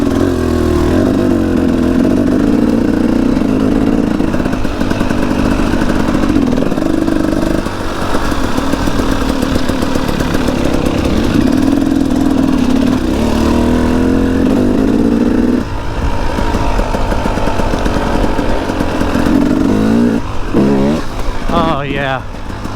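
A KTM 300XCW two-stroke dirt bike ridden through mud on a single-track trail, its engine droning loudly and rising and falling as the throttle opens, heard close and continuous, with a voice speaking over it.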